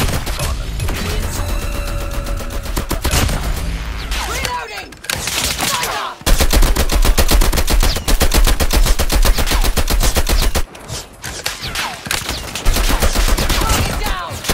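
Dense automatic gunfire from a new gun in Call of Duty Mobile fills the clip, with rapid continuous bursts and brief pauses between volleys, loud and up front among game effects.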